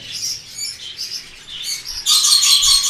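Lutino cockatiels at a bird market chirp loudly and close by, giving repeated bright calls in quick bursts that grow more intense near the end.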